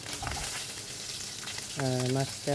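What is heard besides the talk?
rui fish frying in a pan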